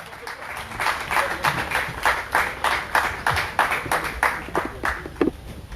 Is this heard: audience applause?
yes